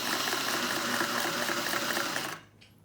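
A 1950s Singer 401A sewing machine runs a straight stitch in a steady, dense mechanical whir that holds even for over two seconds, then stops abruptly, leaving only faint room tone.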